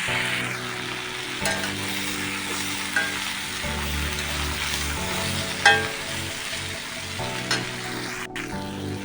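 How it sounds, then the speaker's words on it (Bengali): Vegetables with turmeric and chili powder sautéing in a pan, a steady sizzle over about nine seconds broken by occasional scraping stirs and a few sharper clicks, heard close with no talking. "এটা ভালো করে এবার কষিয়ে নেব।"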